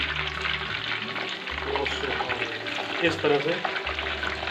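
A whole chicken chargha frying in very hot oil, a steady close sizzle and bubbling throughout, with low rumbling pulses and someone speaking briefly over it.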